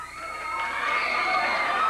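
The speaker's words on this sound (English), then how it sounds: "Jeff Jarrett into the studio, greeting the crowd" A wrestling studio crowd cheers and shouts in a bright, sustained roar that builds slightly over a couple of seconds.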